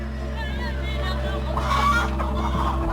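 Chickens in China's Hubei province clucking and murmuring together, a steady flock chatter with occasional louder squawks, fairly near over a constant low hum.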